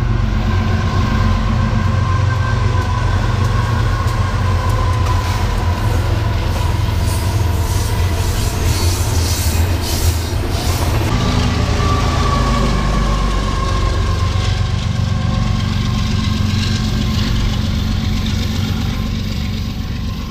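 Metrolink commuter trains rumble past at close range in the San Bernardino area, a loud continuous roar of wheels and rail noise with faint squealing and engine drone that eases slightly near the end.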